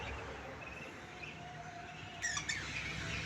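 Budgerigar chicks chirp and chatter faintly from a distance. Their thin, high calls sit over a steady background hiss, with a brief brighter burst of squawks toward the end.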